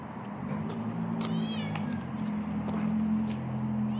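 A cat meows twice in quick succession, close by, over a constant low hum.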